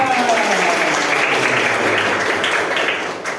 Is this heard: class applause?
yes